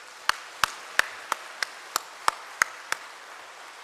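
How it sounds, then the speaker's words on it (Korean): Nine slow, evenly spaced sharp claps ring out over roughly three seconds in a church service, crisp and fairly close with a faint room hum beneath and no voices. "우리 주 예수님께 큰 박수로 감사의 박수 올려드리시겠습니다."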